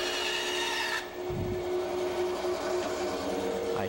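An old band saw runs with a steady whining hum, briefly bogging with a low rasping rub as the blade cuts through wood, then continues humming alone.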